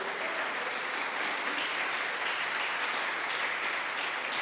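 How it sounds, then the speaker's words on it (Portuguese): A church congregation applauds in praise, a steady, dense wash of clapping that holds at an even level throughout with no gaps. "Você pode aplaudir ao Senhor por isso?"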